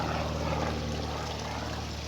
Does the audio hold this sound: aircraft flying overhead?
yes